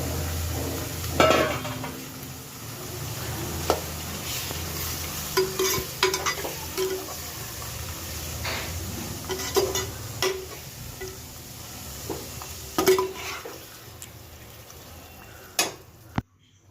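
Liver, half a kilo, fries in a pan while being stirred, with a steady sizzle beneath repeated scraping strokes and metallic clinks of the spoon against the pan.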